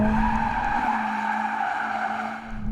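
Tyres squeal steadily in a loud, sustained screech under a revving engine of a Mercedes-AMG CLA 45 S sliding sideways, close by for the whole stretch.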